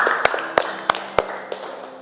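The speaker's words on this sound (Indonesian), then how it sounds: "Mari kita berikan tepuk tangan" Handful of claps for a student's answer in a classroom, a short irregular burst of about six sharp slaps with no talking, fading out within two seconds.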